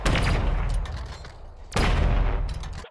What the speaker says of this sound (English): I got a head start shooting the enemies in the tunnel with the cannon.